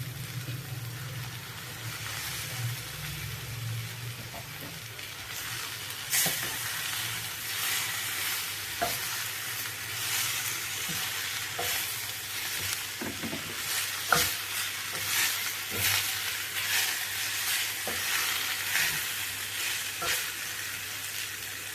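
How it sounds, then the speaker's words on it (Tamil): Steady sizzling and frying of finely chopped tomatoes in a pan for sambar, with occasional scraping and clinking as they are stirred, continuous and close. "பொடியாக நறுக்கி வச்சுருக்க தக்காளி மிக்ஸ் பண்ணிக்கலாம்"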